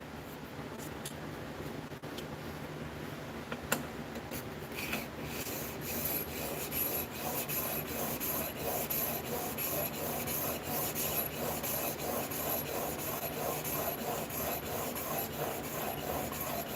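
Knife blade being hand-sanded with 1000 grit abrasive, a continuous close rasping rub in steady repeated strokes, fairly quiet and with no talking.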